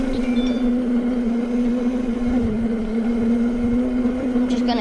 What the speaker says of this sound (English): Now this is gonna be in full throttle, like full throttle gear 3 or speed 3